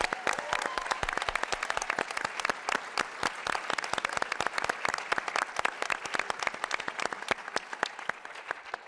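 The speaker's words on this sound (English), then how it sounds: "one more just very big round of applause for the cast and the production" A large audience applauds the cast and production after a show, dense steady clapping that stays loud and even throughout, with no talk over it.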